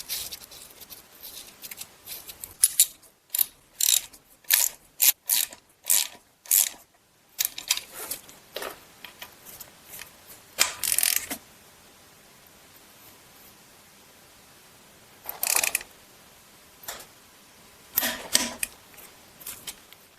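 Ratcheting wrench tightening a 10 mm hex access bolt on a GM 2.4 Ecotec engine, with quick clicking ratchet bursts in a rapid rhythm followed by a few scattered later strokes, close and clear.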